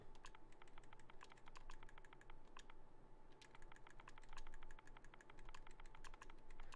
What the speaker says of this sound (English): I was typing in a whole other message into the LFG thing.